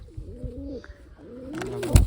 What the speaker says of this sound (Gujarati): જો આવી રીતની કંઈક છે રંગ લગાવેલો કેવું લાગ્યું તમને કમેન્ટમાં જણાવજો જરાક જો રંગીન કબૂતર